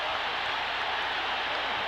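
Boxing arena crowd roaring in a steady, dense wash of cheering and applause after Muhammad Ali beats Leon Spinks for the heavyweight title in 1978, loud and continuous throughout.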